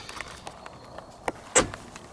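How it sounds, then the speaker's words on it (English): The boot of a TVR car is opened, with a few soft clicks and handling noises followed by a sharper latch release and thud near the end; no talking. "So, need 2 hands to open the boot."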